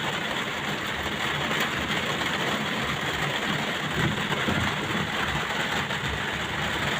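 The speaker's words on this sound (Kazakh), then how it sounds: "Жаңбыр керемет жауып тұр." Heavy rain pours down in the town of Zhanaozen in Mangystau region, a dense, steady broadband hiss with a low rumble underneath, constant throughout and without speech.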